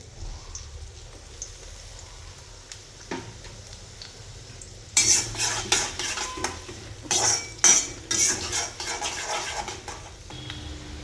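Onion stir-fries over a high flame for chilli chicken, starting with a quiet, low sizzle, then loud clattering scrapes and metal clinks of a spatula tossing it in the pan.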